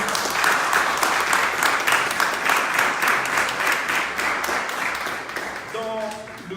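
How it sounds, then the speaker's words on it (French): A room of car club members applauds their hosts at a DS club meeting, steady dense clapping throughout with a faint voice and a brief tonal sound near the end. "Je propose un énorme applaudissement."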